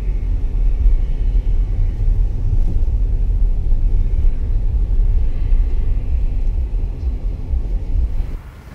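Interior of an Audi A8 driving over a rough, broken road: a deep, continuous low rumble with steady road noise throughout, easing off right at the end.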